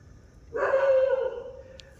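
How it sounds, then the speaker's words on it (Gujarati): A dog near a pond at night lets out a single drawn-out bark, close to a howl. It is moderately distant and faint, heard alone against a quiet background. "એક આ કૂતરો ચાલુ ભસવાનો વધારે"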